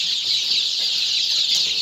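Desi (native) chickens clucking together as a flock, a dense steady chatter of overlapping calls with no single bird standing out, held at an even level throughout.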